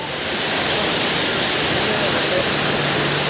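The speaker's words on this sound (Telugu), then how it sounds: "ఇక్కడి నుంచి వాటర్ పారుతుంది మొత్తం" An African waterfall's rushing water pours in a dense, steady roar, loud and unbroken from start to finish.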